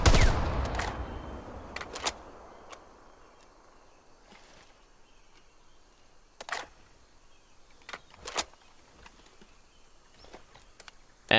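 A Call of Duty Cold War AUG tactical rifle fitted with a muzzle brake fires a loud burst at the start, followed by scattered single shots and clicks over a quiet background.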